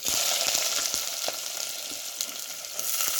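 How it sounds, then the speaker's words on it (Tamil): Chopped onions frying in hot oil with mustard seeds for a Jaffna-style cuttlefish curry, a loud, continuous sizzle with scattered crackles and pops throughout. "இதெல்லாம் போடுவோமா, வெட்டி வச்சிருக்கிற வெங்காயத்தையும் போடுவோம்."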